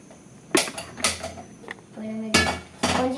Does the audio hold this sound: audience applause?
no